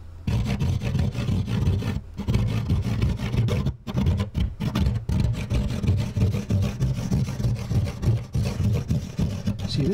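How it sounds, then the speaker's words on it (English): Scraping along the ribs of a DIY guitar isolation cabinet gives a low, rumbling rasp in uneven strokes with brief breaks, close and alone. "Or indeed scraping these ribs, then I get a low frequency sound."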